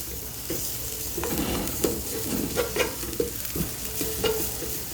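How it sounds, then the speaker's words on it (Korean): Cucumber stir-frying in a pan over high heat with a little cooking oil, a soft steady sizzle broken by repeated scraping and tossing taps, fairly close and without talk. "나머지 익었는 거 볶아서 꺼낼 거 오이 먼저 볶습니다."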